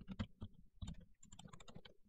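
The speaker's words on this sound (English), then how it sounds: "we're going to type" Windows 10 command typed on a computer keyboard, a quick run of close, crisp key clicks in irregular bursts with no talking.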